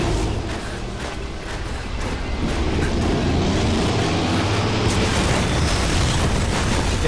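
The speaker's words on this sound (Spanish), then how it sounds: "Es la tercera explosión que me como." A loud explosion in the stealth action game Metal Gear Solid V: The Phantom Pain, a dense sustained rumble that swells after the first couple of seconds and keeps roaring steadily to the end, with no talk over it.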